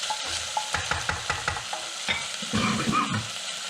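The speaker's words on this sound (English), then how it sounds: "I'm going to add the stew beef. We're going to brown it." Stew beef browns in a hot medium saucepan, sizzling steadily while a utensil stirs and scrapes in a run of quick, close taps, with no talking.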